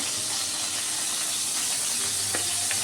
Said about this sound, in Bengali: বোয়াল মাছ বেশি ভাজছি না, উঠিয়ে নিচ্ছি